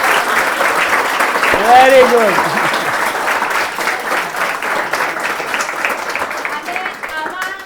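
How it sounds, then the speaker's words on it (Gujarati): An audience at an anchoring training session applauds in a sustained, loud wash of clapping lasting several seconds, while a person speaks briefly over it. "અહીંયા આજે કંઈક નવું શીખ્યા એનો આનંદ એકવાર બતાવો જોઈએ તાળીઓ પાડીને."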